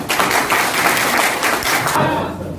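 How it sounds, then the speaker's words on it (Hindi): An audience at a network business seminar applauds, a dense, steady wash of clapping that tapers off toward the end. "एक बार तालियां बजा सकते हैं क्या?"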